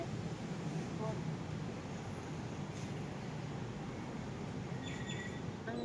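Inside an electric commuter train in Thailand, a steady, loud rolling rumble and hiss fill the cabin without a break, with faint voices in the background.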